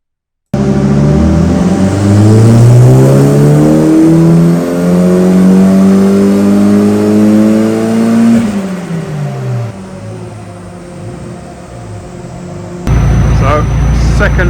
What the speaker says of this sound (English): now it was time to make a power run and see what horsepower it would make